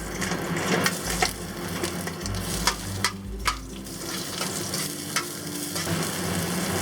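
Ginger and garlic sizzle steadily in hot oil in a pan over medium-high heat, with a continuous crackling fry broken by a few louder stirring scrapes and taps, no voices.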